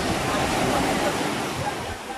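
Sea waves washing onto the beach at Nasugbu, Batangas, a steady loud broadband roar of surf that fills the whole stretch with no break.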